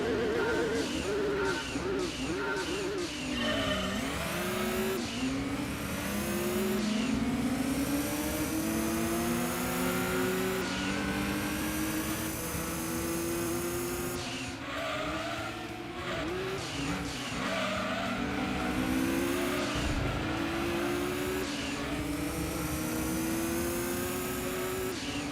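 A racing car engine revs hard to around 9,000 RPM in Gran Turismo 2 with the A-Spec mod, a continuous high-pitched wail rising and dropping through gear changes, loud and unbroken throughout.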